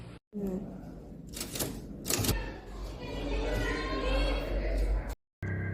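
Rapid clacking keystrokes from a manual typewriter in a modest room, a steady run of sharp taps lasting several seconds, fairly close and clear, with brief pauses at the start and end.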